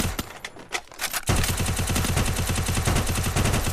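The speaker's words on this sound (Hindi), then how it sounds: "फ्री फायर दे रहे हैं कि कोई प्लेयर वहां पे हो" Sustained spray of automatic gunfire in a mobile battle royale match, dense rapid rounds firing continuously after a few scattered earlier shots, loud and close throughout.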